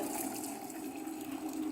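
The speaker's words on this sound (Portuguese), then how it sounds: "vou pôr água dentro da panela" A brief, soft stream of running water filling a vessel, steady and close, with no voices.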